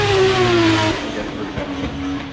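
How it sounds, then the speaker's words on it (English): A race car engine howls loudly up close, its pitch falling as it eases off, then picking up again more quietly while a commentator talks over it. "Fabulous noise in the car"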